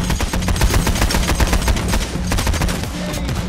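The Brenner automatic weapon in the video game Payday: The Heist fires loud, rapid sustained bursts with a driving rhythm. The fire barely pauses, with only a brief dip midway.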